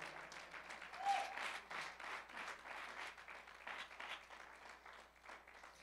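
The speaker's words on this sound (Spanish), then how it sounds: "Denle un aplauso al Señor con todo su corazón" Audience applause fills a church service, a sustained wash of many hands clapping at moderate volume for the whole stretch with no talking over it.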